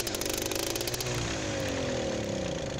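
An MTZ-82 tractor engine in Farming Simulator 19 turns over and settles into a loud, steady, droning run with a slowly shifting pitch, heard alone throughout.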